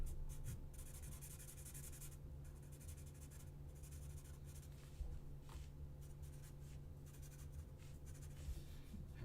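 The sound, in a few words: drawing a quick sketch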